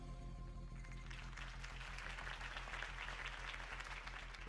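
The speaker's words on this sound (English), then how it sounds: "could have heard that applause" Loud applause from a large crowd, steady and sustained, with a low musical hum underneath throughout.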